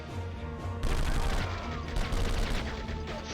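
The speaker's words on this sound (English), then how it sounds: "God, Bradley's rifle just really kicks ass, doesn't it?" A rifle fires in the Conflict: Desert Storm video game in loud, rapid bursts over dense battle noise, with shots crackling close and continuously and no voices on top.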